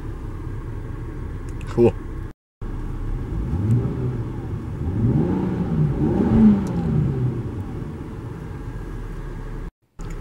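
A 2015 Volvo XC60 T6 engine starts up and revs, a moderate rumbling crank followed by rising and falling engine sweeps heard close by, with a short spoken remark.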